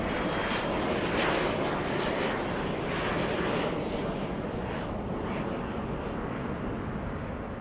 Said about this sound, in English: There goes KLM, the second flight of the day.